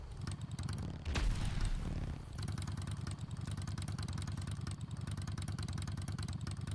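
A motorcycle idles in a GTA RP video game, a steady low engine rumble with a brief swell partway through, then settling back into an even idle with no talk.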